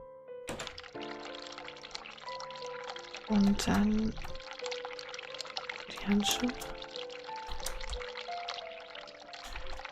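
In the video game The Cat Lady, cold water splashes from a sink tap into a pair of gloves in a few short bursts, under and between someone talking.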